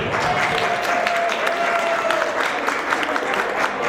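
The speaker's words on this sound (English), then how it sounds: "Big round of applause to our demo team." A crowd at a martial arts demonstration claps loudly and steadily, a dense burst of applause that stays close and sustained for a few seconds.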